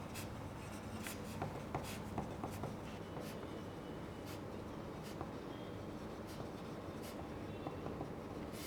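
Pencil scratching across paper in steady, continuous strokes with short taps, close and quiet, heard alone during a timed preparation period for a speaking exam.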